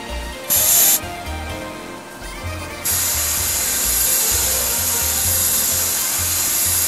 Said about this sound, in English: I'm just spraying the red into the area that's going to be the darkest red right now